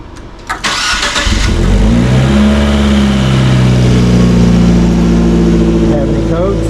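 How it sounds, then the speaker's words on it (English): A Fiat 124 Spider engine cranks briefly, catches, and settles into a loud, steady idle close by. "restore power, and then we're going to turn on the car"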